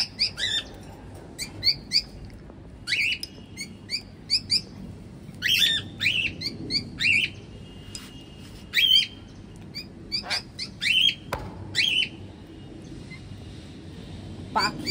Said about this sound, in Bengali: পাখিরা চামচে করে খাবার খাচ্ছে।